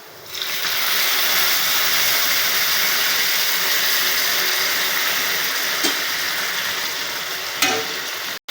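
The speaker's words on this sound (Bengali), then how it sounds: "এবার আমি ডাল তেলে দিয়ে দেব।" Lentils tipped into hot oil in a pan with fried bitter gourd, garlic and onion give a loud, sudden sizzle that holds as a continuous crackling hiss, with a few stirring clinks near the end.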